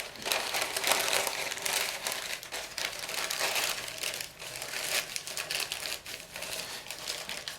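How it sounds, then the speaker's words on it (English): Parchment paper crinkles and rustles almost continuously while it is pressed in to line a box for potting bulbs, in close, steady bursts of crisp crackling throughout. "consider lining it with a piece of parchment paper."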